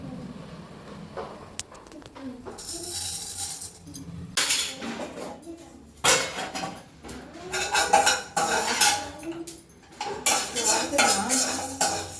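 Pepper and cumin dry-roasting in a kadai over a slow flame, with a utensil stirring and scraping against the metal pan in repeated close, clattering bursts and faint sizzling.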